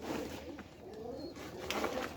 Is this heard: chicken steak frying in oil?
no